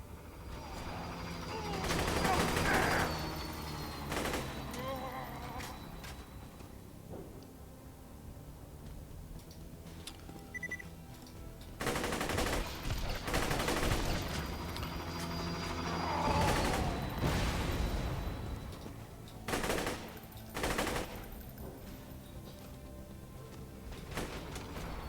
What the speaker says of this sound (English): I got this new corrosive Vladov assault rifle